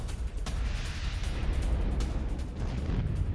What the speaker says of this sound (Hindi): हैंड ग्रेनेड लॉन्चर से यूक्रेनी ठिकानों पर हमला किया गया।